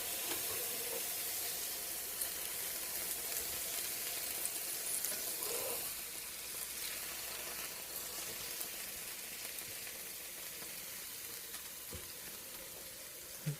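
Steady, dense sizzling of stuffed mushrooms and asparagus frying on a hot grill, a constant crackling hiss with occasional small pops, fairly close and continuous throughout.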